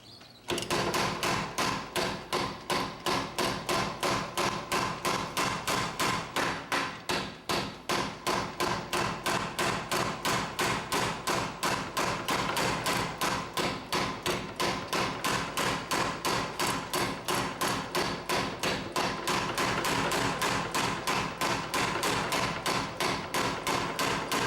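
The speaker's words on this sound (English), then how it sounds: "can I do that with this hammer?" Steady, rapid hammer blows on hot metal at a blacksmith's anvil during a smithing conference demonstration, loud and close, with a regular, nearly continuous rhythm for the whole stretch and a brief pause early on.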